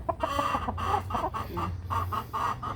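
A Golden Boy Sweater gamecock rooster clucks close by in a series of short, choppy bursts, with brief pauses between them.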